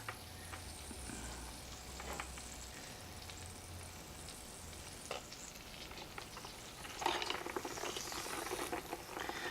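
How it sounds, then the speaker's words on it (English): Pork belly for lechon kawali fries in hot oil in a pot for a second, skin-crisping round, giving a steady close bubbling sizzle that swells into louder crackling spatter near the end. "it's time for me to fry it up again"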